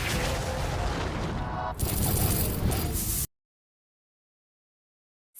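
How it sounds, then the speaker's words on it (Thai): A character's skill in the Bleach Brave Souls game fires arrows into the ground, giving a dense, loud barrage of rapid impacts and bursts for about three seconds before the sound cuts to silence. "ยิงธนูลงพื้นนั่นเองนะครับ"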